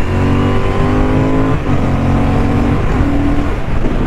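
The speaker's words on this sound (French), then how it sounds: "quand on ouvre la poignée on le sent quand même" A 2023 Honda CB750 Hornet motorcycle accelerates hard. Its loud, close engine note climbs in pitch, then drops briefly at two gear shifts before climbing again.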